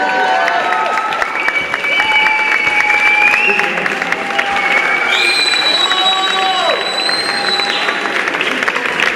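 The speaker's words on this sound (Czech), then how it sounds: "Zatleskejte Martině Bajerové!" A tattoo convention crowd at Tattoo Session Silesia applauds and cheers, steady clapping running throughout beneath loud sustained music tones, no distinct speech.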